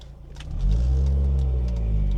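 An NC-generation Mazda Miata with a newly installed shifter pulls away on a neighborhood test drive. The engine note swells quickly into a loud, steady, deep drone as the car accelerates, close and continuous with no talking.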